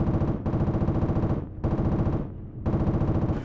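Sustained machine gun fire pours into a bunker in the Project Reality military game, rapid rhythmic bursts, loud and close, broken by two brief pauses.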